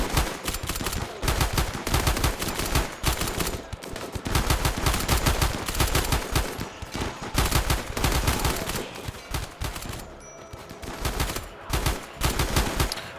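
Rapid bursts of automatic gunfire and single shots rattle in dense clusters within a RimWorld battle in a ruined city, with brief gaps between volleys and no talking.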